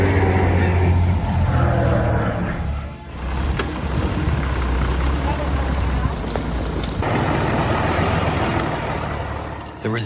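A homemade logging vehicle's engine runs steadily and loud throughout in a forest setting, with a deep rumbling drone that dips briefly and then continues; voices are faintly present in the background.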